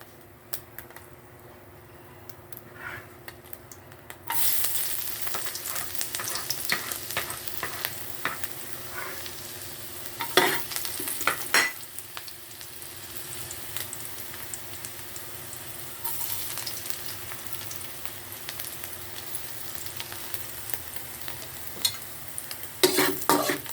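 Food frying in heated cooking oil for breakfast, first quiet, then a sudden bright sizzle that holds steady with crackles and occasional stirring scrapes, close and continuous without talk.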